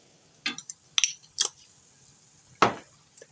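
A spoon clinks and scrapes against a bowl while ricotta, beef and basil filling is mixed, four or five sharp separate knocks with quiet gaps between them, close and fairly clear.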